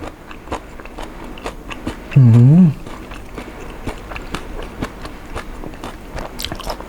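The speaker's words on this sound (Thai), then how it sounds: "เคี้ยวหอย" Giant oysters are chewed close to the mic in steady wet, squelchy bites with crunchy clicks, while a brief hummed murmur rises in the middle.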